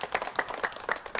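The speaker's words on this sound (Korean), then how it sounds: "박수 부탁합니다" A studio audience at a 1983 Korean TV family game show claps in a brief, even patter of rhythmic handclaps, moderately close.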